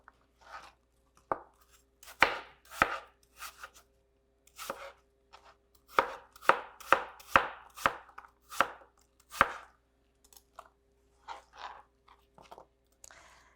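A knife chops an apple into small bite-sized cubes on a board, sharp crunchy cuts landing in irregular bursts with short pauses between them, close and clear with no talk.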